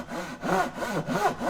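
A Japanese Dozuki saw cuts along a marked line in wood with quick, even back-and-forth strokes, about four rasping passes heard up close at a soft level.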